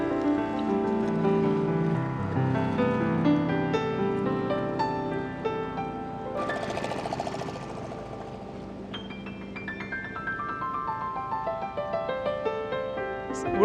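A passenger boat passes on a Kuttanad backwater with a steady droning engine hum and rising harmonics as it moves by, continuous and fairly close, with water and wind in the background.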